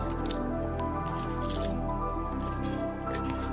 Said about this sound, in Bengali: তো প্রথমে মাথাটাকে কেটে বাদ দিয়ে দিলাম।